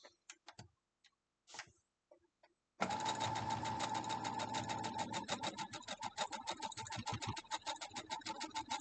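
A sewing machine stitches through a folded quilt block, a fast, even mechanical chatter running for several seconds after a few quiet handling taps at the start.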